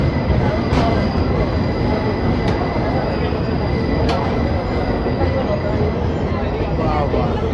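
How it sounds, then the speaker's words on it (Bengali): Falaknuma Express departing Balasore station: a loud, steady rail rumble with high metallic wheel squeals and periodic sharp clanks, heard from nearby, with crowd voices mixed underneath. "ওদিকে বালাসোর থেকে ফলকনামা এক্সপ্রেসের ডিপারচার হয়ে গেছে"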